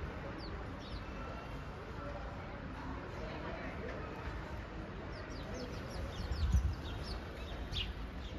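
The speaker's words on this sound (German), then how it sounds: "Das sind Spatzen da vorne." Sparrows chirp in short high bursts against steady outdoor noise at an aviary in Lucerne, with other fowl nearby and a person talking.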